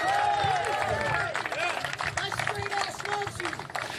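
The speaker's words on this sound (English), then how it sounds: "Round of applause for Kenneth." An outdoor political rally crowd claps and cheers, with dense applause throughout mixed with shouting voices and crowd chatter, fading slightly toward the end.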